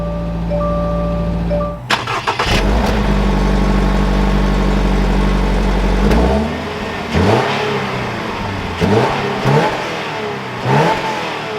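A 2022 Toyota GR86 Premium starts up: a brief crank catches into a loud rev that settles into a steady idle, followed by several short throttle blips. A faint tone is audible beforehand.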